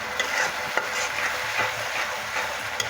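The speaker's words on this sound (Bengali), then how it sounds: "মশলাটা ততক্ষণ কষাবেন যতক্ষণ তেল না ছেড়ে দিচ্ছে" Spiced masala for a prawn curry sizzles and fries in hot oil in a pan, a continuous soft crackle with occasional scrapes and stirring taps from a spatula, fairly close but not loud.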